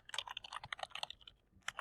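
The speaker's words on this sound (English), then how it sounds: "As you are typing" Quick, close clicks of computer keyboard typing rattle off in an uneven burst, with a brief pause before a last couple of keystrokes; no voices.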